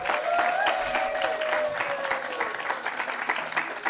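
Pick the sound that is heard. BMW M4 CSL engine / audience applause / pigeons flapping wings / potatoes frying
audience applause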